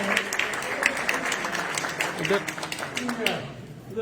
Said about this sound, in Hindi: जोरदार तालियों के साथ आप इस कड़ी का हिस्सा बन सकते हैं